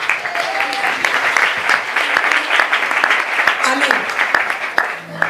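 A church congregation applauds with steady, dense clapping that runs throughout, with a voice briefly audible among the crowd.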